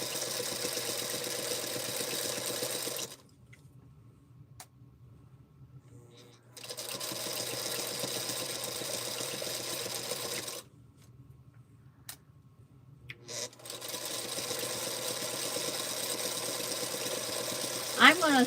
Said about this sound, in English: I'm going to sew a 1/4 inch out on this 1/2 inch